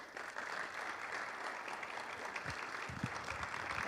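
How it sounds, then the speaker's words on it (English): A room of attendees at a leadership talk breaks into a round of applause, a broad, even wash of clapping held steady from start to finish, with a few thumps near the end. "Give them a round of applause"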